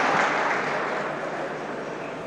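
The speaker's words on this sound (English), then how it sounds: "May I request another rousing round of applause for His Excellency for his kind remarks." Audience applause at a Nigerian Air Force ceremony, a steady, dense wash of clapping that holds fairly evenly and fades slightly over a couple of seconds.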